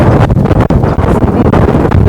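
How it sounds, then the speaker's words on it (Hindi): Strong, steady wind at Golden Beach, Puri, buffets the microphone with a loud, constant low rumble and roar, broken by brief gusty dips. "तेज हवाएं चल रही हैं यहाँ पे।"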